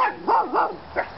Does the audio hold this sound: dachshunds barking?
yes